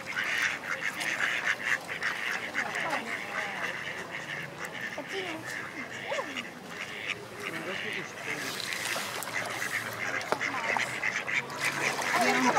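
Ducks calling around a pond, scattered quacks rising over a steady bed of outdoor ambience, with people talking nearby throughout.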